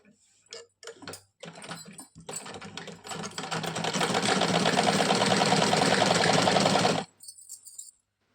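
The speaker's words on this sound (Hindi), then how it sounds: "ऐसे लंबी लंबी हम सिलाई में लगा करके आपको दिखाते हैं।" A sewing machine stitches a folded salwar hem, starting with a few short taps and bursts before settling into a loud, continuous rapid whirring run of several seconds that stops abruptly, followed by brief handling clicks.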